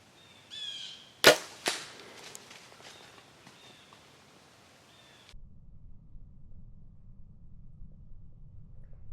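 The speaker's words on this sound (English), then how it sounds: "I think I shot underneath him" A single sharp rifle shot fired at a buck during an Illinois rut hunt, a loud crack with a brief echo tail, preceded by faint rustling and followed by quiet outdoor ambience.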